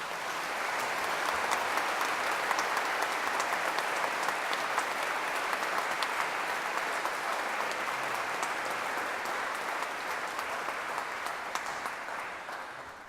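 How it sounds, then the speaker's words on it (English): A large graduation ceremony audience applauds steadily and loudly, dense clapping sustained for over ten seconds before beginning to taper off. "Let us give a round of applause."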